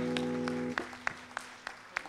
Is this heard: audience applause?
yes